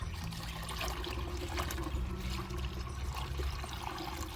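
Dissolved urea fertilizer solution is poured through a mesh strainer, a steady continuous trickle and splash of liquid heard close for a few seconds.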